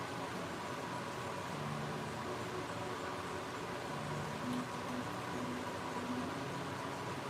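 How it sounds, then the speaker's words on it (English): A shop vacuum runs continuously in a woodturning shop, a steady, even whine and hiss without pauses, moderately loud and close, with faint background tones. "I'll vacuum a little bit here"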